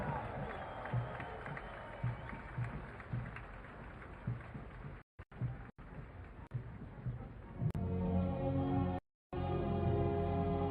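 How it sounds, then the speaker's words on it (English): Outdoor crowd at a US Army 250th birthday military parade gives applause to the 82nd Airborne Ceremonial Band, a broad, sustained wash of distant clapping and cheering with a few brief dropouts. "Give them a big round of applause, the 82nd Airborne Ceremonial Band."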